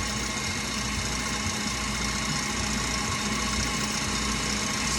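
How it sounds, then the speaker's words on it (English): A KitchenAid stand mixer runs at top speed 10 whipping meringue for banana pudding, a steady loud motor whir with a grinding mechanical rumble that holds constant throughout. "my little KitchenAid is at 10"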